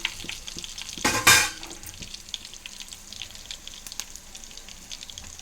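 Curry leaves dropped into hot oil give a sudden loud burst of sizzling crackle, then settle into a quieter steady fry with faint stirring sounds, close up.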